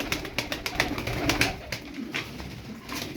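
Tumbler pigeons coo in soft, low repeated calls amid light rustling, fairly close and moderately quiet.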